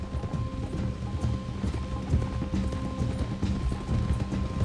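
Horses clip-clop steadily in Red Dead Redemption 2, a continuous rhythmic patter of hooves with creaking tack over a low game ambience, close and moderately loud, with no talking.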